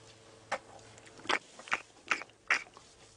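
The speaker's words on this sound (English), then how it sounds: "And you might be able to hear the sort of chewing." An elephant chewing food on a safari drive makes a series of about five crunching bites spaced roughly every half second, moderately close over a quiet background.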